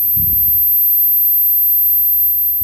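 A power inverter in a solar setup gives a thin, steady high-pitched electronic whine throughout, after a brief low thump at the start.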